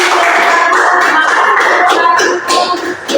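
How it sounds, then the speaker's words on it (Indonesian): Clapping fills a classroom after a group's presentation during a micro-teaching lesson: a dense, steady patter of many hands that thins slightly near the end, with faint voices mixed in. "Ya, berikan aplaus dulu."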